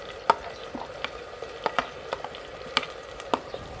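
Onions fry with ginger-garlic paste in a pan for Lahori white chickpea curry. A faint sizzle runs underneath scattered sharp taps and scrapes from stirring, with no speech.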